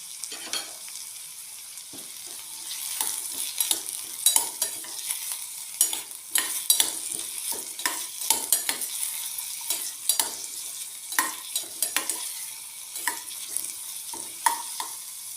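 Onions and curry leaves sauté in a pan with a continuous gentle sizzle, broken by repeated scraping and stirring strokes of a spoon at an uneven rhythm, close by and without talk.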